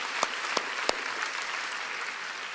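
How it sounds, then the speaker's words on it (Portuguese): Applause from a church congregation during a sermon, a steady broadband patter of clapping held at moderate level with a few sharper individual claps standing out near the start. "Aplaude lá para o irmão que está fazendo."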